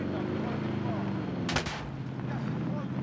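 Gunfire in a video game: a loud burst of shots rings out sharply mid-clip over a constant rumbling game backdrop, with faint scattered noise afterward.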